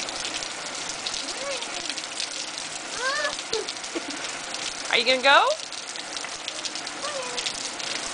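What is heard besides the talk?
rain of a tropical storm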